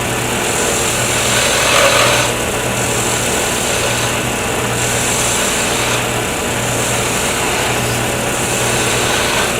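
A wood lathe spins a pen blank in a loud, steady whine and hum as a tool makes light planing cuts, the tone rising and dipping slightly as the cutting pressure shifts, with no talking.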